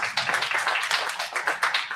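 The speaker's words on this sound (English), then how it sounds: "So again, another round of applause for Fahad." Audience applause for an election candidate at a university results announcement, a patter of scattered hand claps pulsing in small waves for two seconds, moderately close, with no talking over it.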